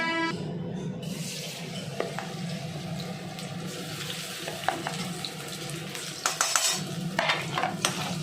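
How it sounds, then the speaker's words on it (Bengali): Homemade baby corn frying in hot oil in a pan, a steady close sizzle with occasional clatter and scraping of utensils toward the end. "এটা ভাজাটা শুরু করে দিলাম, ভাজাতে একটু সময় লাগবে।"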